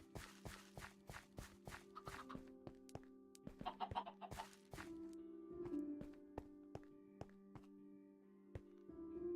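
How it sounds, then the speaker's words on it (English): Minecraft chickens give soft, repeated clucks alongside a steady run of game footsteps and block thunks, all fairly quiet with no talk over them. "New chickens."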